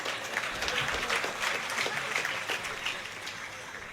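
Audience clapping at a minister's speech at SRKR College in Undi, a steady wash of applause that holds at an even level for the full stretch, with no voices breaking through.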